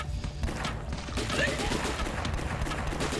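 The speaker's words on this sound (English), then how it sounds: "we'll try the hand grenades." Hand grenade explosions in the video game Last Stand 2, a rapid rolling burst of blasts and crackling booms throughout, fairly quiet overall.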